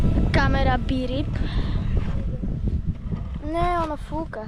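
Strong wind buffets a microphone outdoors, a steady low roar that runs through the whole stretch while people talk loudly over it.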